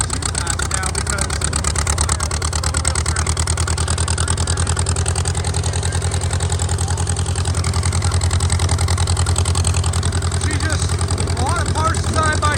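Antique Dodge-built farm tractor engine chugging steadily after a cold start, a loud, continuous low rumble with rapid even firing pulses and heavy shaking, close by, with a voice talking over it.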